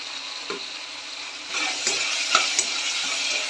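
Frying with turmeric in a pan, a bright hissing sizzle that swells after the first second and a half, punctuated by several crisp scraping and stirring knocks, close and moderately loud with no voices.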